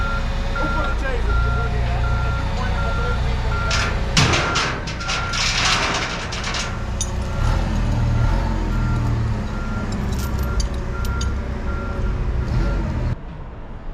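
A truck backing a trailer into a shop yard sounds steady, evenly spaced reversing beeps over a rumbling engine, with clanks and shouting voices mixed in before the beeping cuts off near the end.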